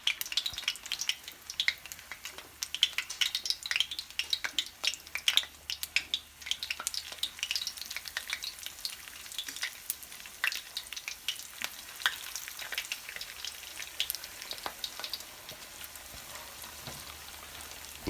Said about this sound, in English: Let these fry up.